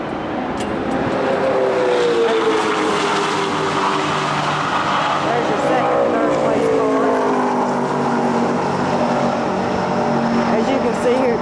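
Race cars roar at speed around Daytona on the final lap, a loud continuous engine drone with shifting pitch as cars sweep past, a commentator talking over it throughout.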